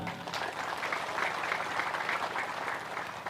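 Audience applause at a talk on Indonesia and Palestine, a steady dense wash of clapping from a crowd lasting the whole stretch with no voices over it.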